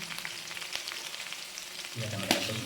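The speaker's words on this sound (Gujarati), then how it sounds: "હવે થોડી વાર આપણે ફ્રાય થવા દઈશું" Green chilies sizzle in hot oil for a spice tempering in dry potato sabzi preparation, a quiet steady crackle with a slightly fuller frying burst toward the end.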